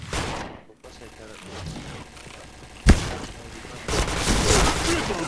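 Rapid gunfire bursts in the Point Blank online shooter, with a sharp crack partway through and heavier sustained firing near the end, overlaid with game voices and background talk.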